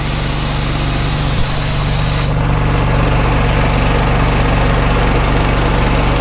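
A gas-powered air compressor engine runs loud and steady throughout, a continuous droning motor sound with a brief knock partway in and a change in tone as it settles, no talking.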